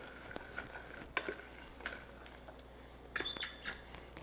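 A spoon scrapes and stirs pecan praline mixture in a pan on the heat, giving soft, irregular clicks and scrapes at close range against a quiet background.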